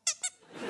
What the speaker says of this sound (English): A toy plastic squeaky lobster.